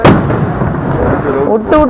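Firecrackers bursting at a home festive celebration, a dense crackling barrage of loud pops and booms, with voices audible beneath the noise.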